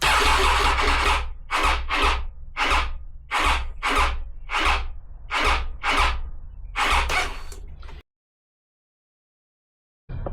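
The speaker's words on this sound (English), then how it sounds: "So we'll give it a go and see if the starter works this time." A Triumph Tiger 800 motorcycle's starter motor cranks in about nine loud, close bursts, each a short whirring churn with brief pauses between, before stopping and falling silent; no engine catches.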